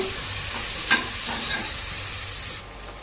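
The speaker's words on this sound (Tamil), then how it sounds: "இப்போ நம்ம ஒரு கை புதினா, மல்லி இதையும் நல்லா வதக்கிக்கலாங்க." Tomato sautéed with a handful of mint and coriander sizzles and fries steadily in a pan for coconut milk rice, with a brief stirring scrape near the start; close and continuous, no talk.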